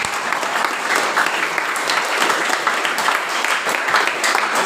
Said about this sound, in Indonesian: Yang terakhir, tepuk tangan untuk diri sendiri.